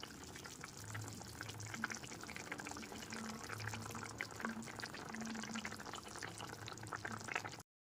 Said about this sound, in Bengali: ঝোলটা এখানে ফুটে গেছে এরপর এর মধ্যে দিয়ে দিচ্ছি ভেজে রাখা কোপ্তাগুলো